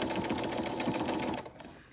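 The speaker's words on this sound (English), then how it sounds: "So I'm going to stitch forward and reverse." A sewing machine stitches fabric forward and then in reverse, a close, quiet, steady rapid whir with fine regular ticking that slows and softens near the end.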